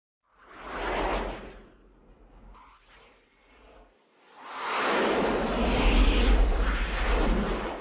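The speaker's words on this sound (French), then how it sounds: "Les avions français et les Rafales en l'occurrence ont survolé la Libye." French Rafale military jets flying over Libya, two loud broadband roaring passes, a brief one first and then a long sustained roar, with no talk.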